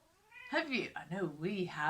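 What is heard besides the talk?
pet cat meowing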